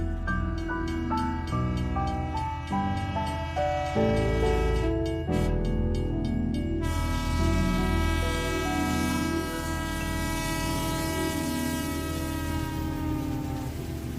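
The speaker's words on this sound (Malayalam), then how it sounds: "ട്രെയിൻ ഏങ്ങി വലിച്ച് കുറ്റിപ്പുറം വിട്ട് പോണതിന്റെ സൈറൺ" The Malabar Express pulls away from Kuttippuram station, its horn sounding in long, loud sustained tones over a continuous low rail rumble.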